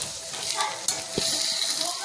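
Masala for an egg curry sizzles in hot oil with a continuous hiss, broken by a soft clink and a quick stir, fairly close.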